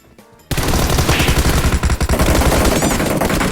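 Heavy automatic gunfire in a PUBG-style battle royale match at Georgopol, starting abruptly after a quiet moment and continuing as loud, dense bursts of rapid shots close up for several seconds.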